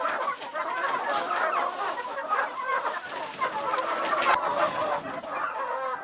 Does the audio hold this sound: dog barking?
no